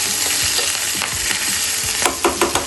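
Tadka of hing, mustard seeds, sesame, chili and curry leaves hits hot oil for homemade dhokla, giving a loud, steady close-up sizzle with sharper crackling pops bursting near the end.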